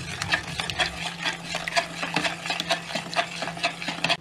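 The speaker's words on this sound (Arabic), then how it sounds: "وهنقلب كويس" Sobia powder being stirred into date water, a spoon scraping and clinking rhythmically around a glass or bowl in quick, regular strokes, close and clear.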